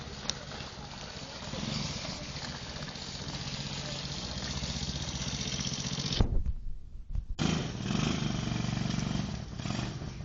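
A small children's motorcycle engine idles and revs nearby in a snowy yard, a steady buzzing drone that briefly cuts out, then returns, with voices talking over it.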